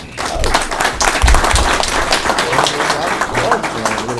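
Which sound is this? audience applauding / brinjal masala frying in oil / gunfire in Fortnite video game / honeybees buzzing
audience applauding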